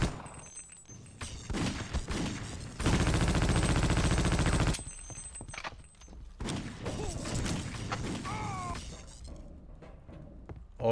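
Video game gunfire comes as a sustained, loud burst of rapid automatic shots, with scattered sharper shots and impacts before and after. A voice speaks over parts of it.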